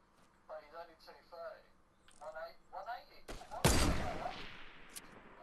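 A shield gun fires in Fortnite, one sharp loud blast with a decaying tail following a few moments of quiet talk.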